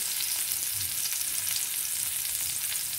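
Garlic frying in a hot pan while a breakfast of fried egg and hotdog is cooked, making a steady, dense sizzle that holds evenly at close range from start to finish with no voices.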